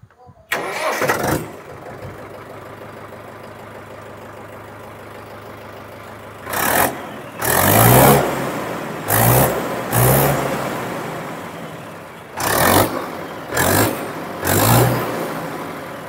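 A Mahindra 475 DI MS XP Plus 2025 tractor cranks and catches, then settles into a steady diesel idle, loud and close, with several sharp throttle blips and revs breaking the idle later on.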